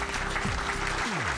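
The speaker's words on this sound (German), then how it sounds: "Applaus nochmal." Audience applause at a Mercedes-AMG event after a Nordschleife drive, a steady dense wash of clapping with a low hum and tonal sweeps underneath.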